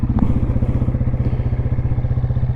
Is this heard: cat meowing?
no